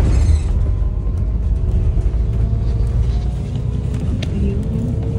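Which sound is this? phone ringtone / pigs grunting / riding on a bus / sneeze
riding on a bus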